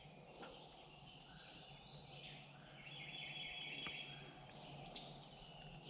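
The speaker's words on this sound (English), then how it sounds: "So many birds singing." Morning chorus in a state park: many birds chirp and trill at a moderate distance over a steady bed of insect buzzing, with no voices present.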